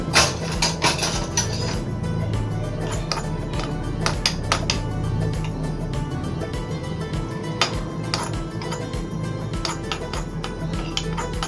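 A metal utensil stirs food frying in a pan, making repeated clinks and scrapes against the pan over a low background sizzle.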